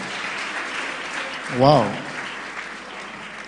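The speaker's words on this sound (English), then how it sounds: "Please give her a round of applause." Conference audience at a tech week event applauding, a dense steady patter of clapping under a brief exclamation from one voice.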